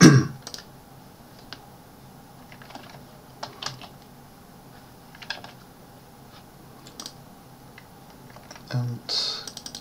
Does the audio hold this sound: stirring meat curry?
no